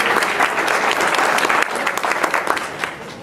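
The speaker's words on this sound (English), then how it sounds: "so give yourselves a round of applause." Crowd at a 2018 campaign kickoff in a gymnasium clapping loudly and continuously, a thick sustained patter of many hands with no pauses.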